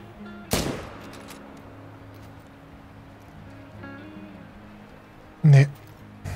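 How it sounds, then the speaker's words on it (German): Two sharp gunshots in theHunter: Call of the Wild, one early and one near the end, each a loud crack over quiet outdoor game ambience and low background hum. "300 Meter Schuss."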